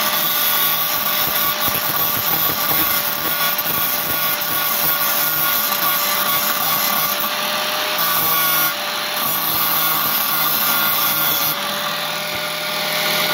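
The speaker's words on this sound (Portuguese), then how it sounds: "Agora eu vou lixar essa rachadura aí que tá aí" Continuous, steady whine of an angle grinder sanding down a crack in a metal porch chair before welding, loud and close throughout with no talking.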